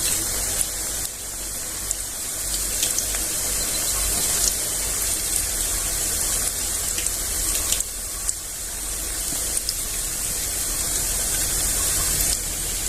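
Bajra flour bhaji frying in hot oil in a home kitchen, a steady dense sizzle and crackle running continuously and fairly close throughout, with no voices.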